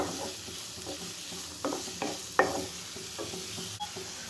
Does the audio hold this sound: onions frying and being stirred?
yes